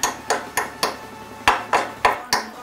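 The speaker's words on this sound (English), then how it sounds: "Hit it with a hammer." Repeated hammer blows on a car part while a transmission goes into an Infiniti G35, eight sharp metallic strikes in an uneven rhythm, loud and close, with no talking.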